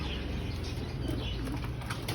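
Hen breeders flapping their wings while bathing in a split bucket, a flurry of rapid fluttering wing beats and splashes, close and continuous, with soft bird calls mixed in.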